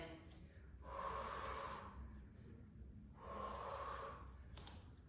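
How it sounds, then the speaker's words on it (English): Heavy, effortful breathing during an upper body and legs shaping exercise class: two long, loud breathy exhales roughly two seconds apart, close and with no talk over them. "That's why I'm making those serious breathing noises."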